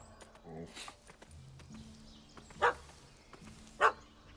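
A dog barks twice in The Witcher 3, two short sharp yaps spaced about a second apart at moderate distance, set over a quiet game ambience with faint background movement and hoof-like thumps.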